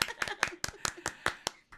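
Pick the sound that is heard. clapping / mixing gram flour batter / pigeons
clapping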